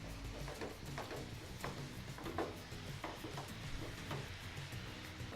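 Freshly grated coconut is stirred into melted jaggery in a pan for steamed modak filling, giving a faint, steady scraping and rubbing texture with soft irregular clicks.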